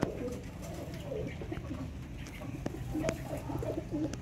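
Teddy pigeons coo softly in low, burbling calls, a few overlapping phrases close by, with faint rustling and ambient noise underneath.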